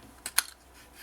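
Scissors trim excess paper on a handmade scrapbook booklet, two quick crisp snips close up in a quiet room.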